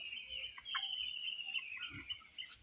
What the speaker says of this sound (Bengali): বেশি দিনের হয়নি মুরগি বাচ্চাগুলো।